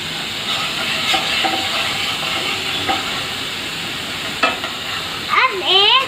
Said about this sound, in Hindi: अब हम इसे अच्छे से फ्राई कर रहे हैं।